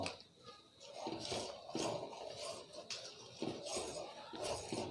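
A spoon stirs milk powder into milk in a pan, giving steady scraping and clinking against the metal with repeated rhythmic strokes, close and moderately loud throughout.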